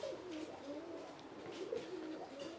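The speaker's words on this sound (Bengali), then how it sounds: "ওইদিকে তো দেখতেছি অনেক কবুতর এবং মুরগি মনে হয়" Pigeons coo steadily in a backyard farm setting where chickens are also kept, the soft repeated calls overlapping at moderate distance with no talk.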